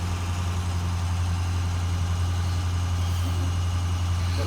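A truck engine idles steadily to build air pressure for the brakes, giving a constant deep rumble with a strong low hum, close and unbroken, with no talking.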